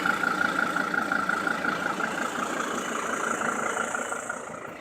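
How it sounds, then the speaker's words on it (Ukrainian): A Mercedes Sprinter van's engine idles smoothly and evenly at close range, a steady mechanical hum with a faint high whine that eases slightly toward the end, no talk over it. "Моторчик працює як годинник."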